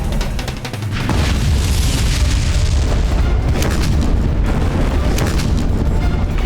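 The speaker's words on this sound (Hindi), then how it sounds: "मुगलों ने पुनः तोप के गोले दागना आरंभ कर दिया है।" Mughal cannons fire cannonballs at Maharana Pratap's fort: a loud, continuous barrage of deep booming blasts that roll together into a rumbling roar, with sharper reports breaking through.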